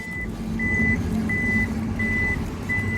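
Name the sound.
Maruti Invicto electronic boot closing with warning beeps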